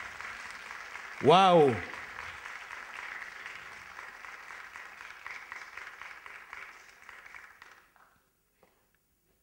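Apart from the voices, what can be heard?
audience applause for a choir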